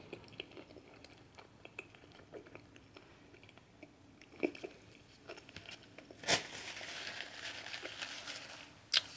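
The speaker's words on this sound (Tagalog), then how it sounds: "Kagat ulit tayo." A homemade burger is bitten and chewed close to the microphone: soft, wet mastication with small crunches, then a louder bite and a burst of crunchy, squishy chewing near the end, with no talking.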